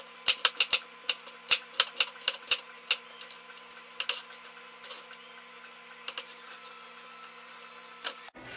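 A knife slices garlic on a cutting board with sharp, crisp knocks, rapid and regular at first, then thinning into sparse, scattered taps.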